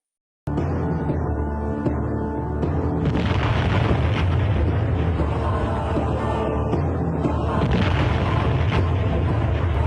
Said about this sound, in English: by 1961 the Soviets had made and tested the strongest bomb recorded, the Tsar bomb